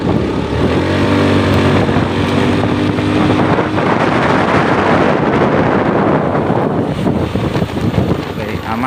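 Honda Beat FI scooter with a faulty O2 sensor accelerating hard, a loud continuous engine drone rising in pitch, heavy wind rush over the microphone throughout.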